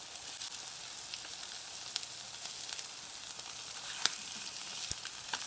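Spam and egg mixture with vegetables fries in a pan with a steady, bright sizzle throughout, broken by a few sharp clicks and taps as pieces are flipped, heard close with no voices.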